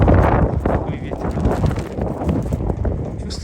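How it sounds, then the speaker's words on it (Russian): Wind gusting across an outdoor microphone beside a rapeseed field in the mountains, a steady low rumbling buffet throughout with a voice talking over it. "Такой ветер."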